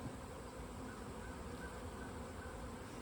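Honeybees buzz around a hive as a dense, continuous hum of many insects, steady and fairly quiet, with no voices.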